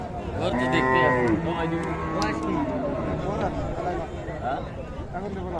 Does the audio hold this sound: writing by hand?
no